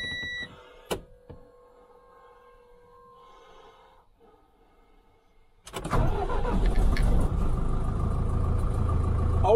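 An Iveco Eurocargo 7.5-ton camper truck, unused for about a year, starts up: a few seconds of quiet hum and clicks, then the engine cranks and catches into a loud, rumbling idle that continues to the end.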